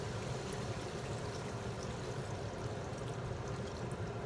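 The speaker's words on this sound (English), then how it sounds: "Now we're gonna add some water." Water poured into a cooking pot while making bistig Kapampangan, a steady soft trickling and splashing stream, quiet and continuous with no voices.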